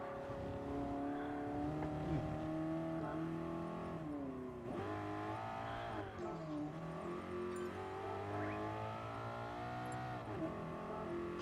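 Race car in a racing video game sliding sideways through a drift turn, a steady loud engine drone with shifting revs running continuously, no voices over it.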